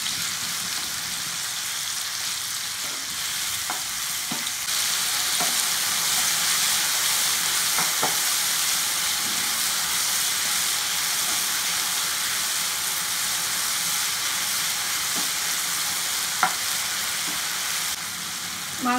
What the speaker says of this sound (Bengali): মাংসটাকে ভালো করে একটু কষে নেব